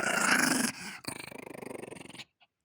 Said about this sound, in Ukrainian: Ти гарний песочок, не гарчи.